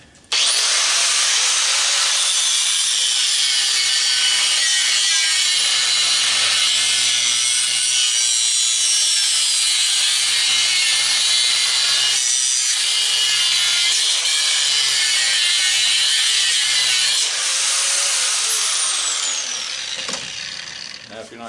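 Grinder cutting through the casing of a scrap copper motor, a loud, harsh, continuous high-pitched grinding that holds steady for about twenty seconds before tapering off.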